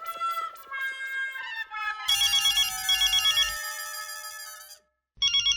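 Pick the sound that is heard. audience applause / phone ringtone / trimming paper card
phone ringtone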